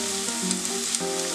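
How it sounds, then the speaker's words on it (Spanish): Onion fries and browns in a pan over medium heat, giving a steady, close, unbroken sizzle with no voices. "Aquí vamos a dejar que se dore la cebolla."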